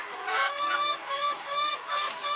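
Several chickens cluck close by in a poultry shed in overlapping, nasal bursts, a busy continuous chorus with no talking.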